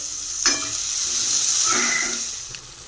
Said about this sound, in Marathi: यामध्ये आपण चिरलेले टॅमॅटो टाकून घेऊया आणि ते देखील आपण तेलामध्ये चांगले फ्राय करून घ्यायचे